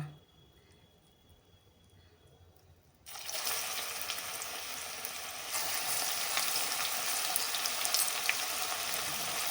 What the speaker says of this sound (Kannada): ಇದು ಎಣ್ಣೆಲಿ ಕರಿಯುವ ಇವಾಗ ಆಲ್ರೆಡಿ ಎಣ್ಣೆ ಕಾದಿದೆ